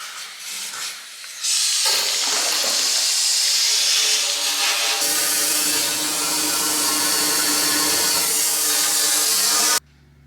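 Water and Simple Green rushing through a 2-stroke exhaust pipe, a loud continuous hissing spray that starts after a brief lead-in and runs steadily until it cuts off abruptly.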